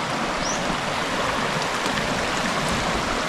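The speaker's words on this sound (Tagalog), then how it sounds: "Andyan naman dumaan yung tubig." Water rushes steadily through a stream channel that has been partly filled with sand, gravel and stones, a close, constant broadband wash with no speech.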